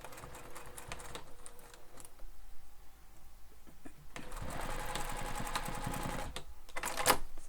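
A sewing machine stitches a seam on a crossbody bag, starting with slow hand-cranked clicks and then running in a fast, even mechanical whir.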